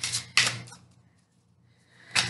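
Tarot cards being shuffled by hand, heard as two quick papery riffling bursts close up, a quiet gap between them and a third burst at the end, with no talk.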